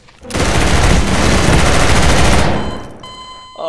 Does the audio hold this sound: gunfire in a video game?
yes